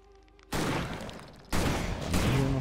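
A shotgun fires twice in the game Victor Vran, each blast a loud, broad burst about a second apart, ringing out and layered with further gunfire and game effects.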